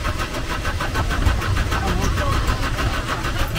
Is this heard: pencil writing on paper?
no